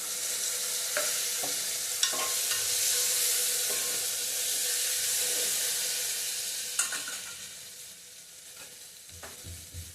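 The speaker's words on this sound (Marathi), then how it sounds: "आता मी ह्यात घालणार आहे एक मोठा चिरलेला टोमॅटो." Chopped tomato drops into a pot of sambar and sizzles loudly and steadily in hot oil, with occasional stirring knocks and no talking.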